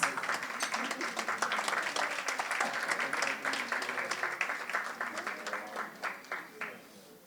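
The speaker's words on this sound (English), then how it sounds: "And as you applaud Mr. Houston, let me call Ms. Sherilyn Williams-Case." An awards ceremony audience for household workers breaks into sustained applause, many hands clapping steadily for several seconds before thinning out and fading toward the end.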